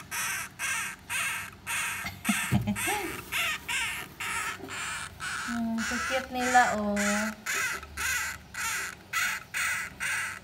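Seventeen-day-old Syrian baby hamsters give rapid, repeated high squeaks in a steady pulsing rhythm close by, while someone talks softly over them.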